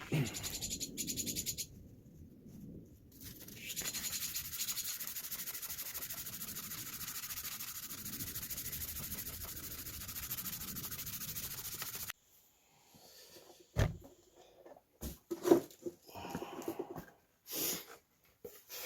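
Steady scratchy rubbing of 1000-grit sandpaper on apple wood bowl, continuous and close for most of the stretch, then stopping into quiet with a few scattered knocks.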